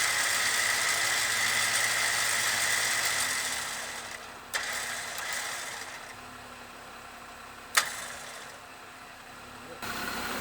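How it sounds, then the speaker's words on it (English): A Jeep Wrangler being fitted with new bumpers and a winch creeps forward, its engine holding a steady, close, low rumble, broken by two sharp clunks partway through. "drive forward just a little bit"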